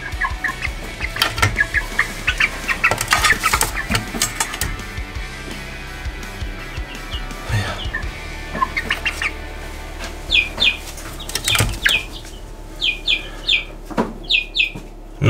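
Eight-week-old Marans chickens, roosters and hens, cluck and call repeatedly at close range, with bursts of rustling and wing flapping and a few sharp squawks, no talking.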